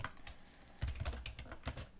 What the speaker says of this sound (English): if you're not good at typing things while people are watching, don't have people watch